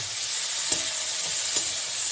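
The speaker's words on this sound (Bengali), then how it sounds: "মাছটাকে আমি হাই হিটে ভাজছি" Prawns fry over high heat in a pan, a dense continuous sizzle with a couple of faint stirring knocks.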